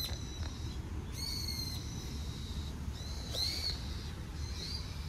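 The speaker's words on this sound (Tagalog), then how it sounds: "Yung ibon dito, what the hell?" An owl-like bird calls at night during a long bike ride in Japan, with several thin, high repeated notes over a steady low background rumble, fairly faint and without talk.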